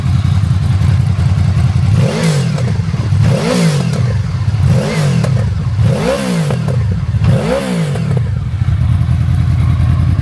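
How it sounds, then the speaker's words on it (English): A 2016 Honda VFR 800 motorcycle engine revs repeatedly, about five rising-and-falling bursts of loud exhaust roar over a steady idle, close by. "Let's hear its exhaust."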